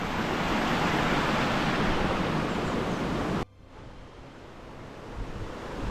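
A full beck in the fells around Blencathra rushes loudly and close, a dense continuous roar of flowing water that suddenly drops to a softer, more distant gurgle partway through.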